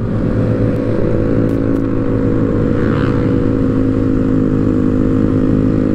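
A motorcycle engine drones steadily and loudly at constant speed during a night ride in Bogor, its low hum unbroken and close throughout.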